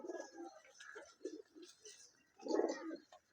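A pigeon coos softly nearby, low throaty calls repeating, with one fuller coo near the end; faint background hiss.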